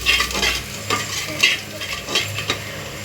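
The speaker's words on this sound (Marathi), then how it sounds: "याच्यामध्ये लगेच कांदा लाल होतो ना" Chopped onion sizzles in a hot pan with a little salt while a utensil stirs it, giving repeated scraping strokes over a steady, close frying hiss, with no talking.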